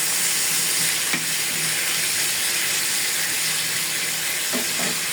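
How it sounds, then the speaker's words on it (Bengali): Pieces of salted pointed gourd and potato fry in a hot pan, making a continuous close sizzle with a few brief clatters of stirring. "এখন পটল আলু বসিয়ে দিলাম, হালকা ভেজে নেব।"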